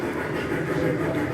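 A train moving in reverse rumbles steadily nearby, a continuous low rolling noise over a very short stretch.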